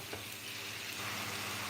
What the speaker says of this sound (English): we'll start frying the garlic